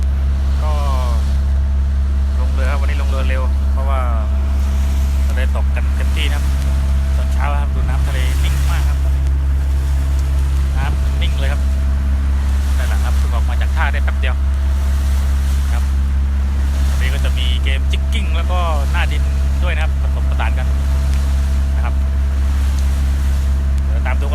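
A fishing boat's engine idles steadily on the water at dawn, a constant low drone beneath wind and lapping waves, with someone talking over it at intervals.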